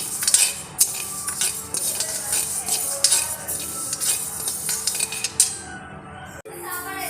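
Moong dal dry-roasting in a pan, stirred continuously with a metal utensil that scrapes and clinks against the pan in repeated close strokes, with faint sizzling rustle before stirring stops near the end.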